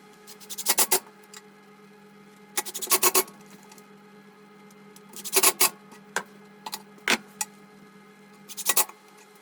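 Edge banding is applied to the faces of plywood cabinets, with bursts of rubbing and rasping strokes in uneven clusters, close and fairly loud over a steady low hum, without talk.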